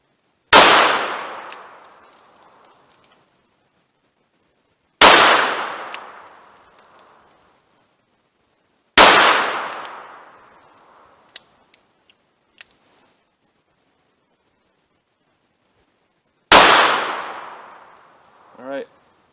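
Four loud, sharp gunshots from a .38 Special revolver fired single action with 170-grain Keith semi-wadcutter bullets, spaced several seconds apart, each ringing out and decaying, with a few faint clicks between shots.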